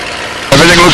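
Propeller aircraft engine running as the prop is cycled back once, a steady engine drone that swells sharply louder halfway through and holds there, close and continuous.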